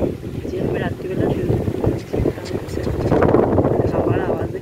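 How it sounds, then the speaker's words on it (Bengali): Strong gusty wind roaring during Cyclone Remal with light rain falling, a loud, continuous rushing buffet over the microphone that swells and dips, with a voice speaking over it. "হাওয়ার আওয়াজ দেখেছো, হাওয়া বলছে"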